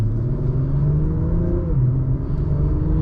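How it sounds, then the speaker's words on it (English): A 2023 Acura TLX Type S engine pulls hard under acceleration from inside the car, a loud steady rumble with rising harmonic tones that dip briefly mid-pull before climbing again. "And as you'd expect, it's nice and punchy. You know, nice punchy engine"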